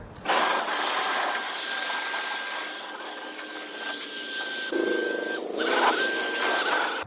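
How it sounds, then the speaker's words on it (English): A leaf blower clears leaves off a home driveway before a Honda CR-V detail, producing a steady, loud, close whine and rushing air that holds for several seconds with small surges. "So before we wash anything, I'm gonna blow all these leaves."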